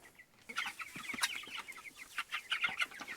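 A flock of chickens clucks continuously inside a coop, with overlapping busy calls and chatter at close range, fairly soft and with no voices over them.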